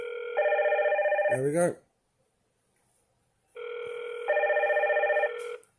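A Hikvision IP PoE Android intercom panel rings with a loud tonal electronic chime in two long repeating bursts separated by a pause, someone speaking briefly between them.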